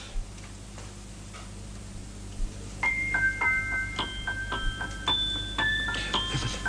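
Clockwork mechanism ticking steadily, joined midway by bright, ringing chime-like tones that layer over the ticks, fairly close and clear with no voices.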